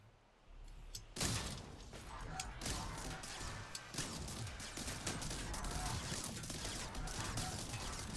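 Battleship cannon fire in the TerraTech vehicle-building game: a sudden loud blast about a second in, followed by a sustained dense roar of booming, crashing explosions and mechanical clatter that holds steady to the end.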